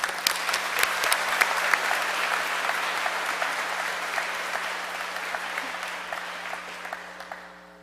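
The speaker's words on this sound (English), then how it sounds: "Let's give him a round of applause." An audience at a student recognition ceremony claps warmly, a dense burst of applause that holds steady for several seconds and then thins out and fades as hands stop, heard without speech.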